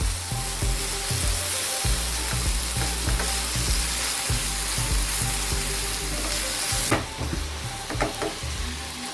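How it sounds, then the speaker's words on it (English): Masala spice paste frying in oil in a pan for Chicken Khandeshi, a loud close sizzle with intermittent stirring scrapes and clicks of a spoon against the pan, no talking. "you can see the masala is frying very well"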